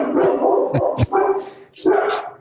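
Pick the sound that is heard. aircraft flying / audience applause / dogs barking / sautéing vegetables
dogs barking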